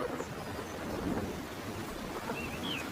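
Steady, soft rainfall hisses continuously, with a faint low rumble underneath, fairly quiet and even throughout.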